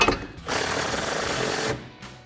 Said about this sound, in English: you can take an 18 millimeter socket to tighten it down